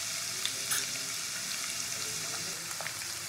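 Chopped onion and ginger frying in oil in a pan, a steady close hiss of sizzling with faint crackles throughout, no talking.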